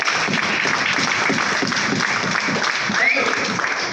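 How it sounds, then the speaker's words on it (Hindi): Seminar audience applause, a steady, fairly loud patter of many hands that runs throughout, with a voice speaking over it. "ये तालियां"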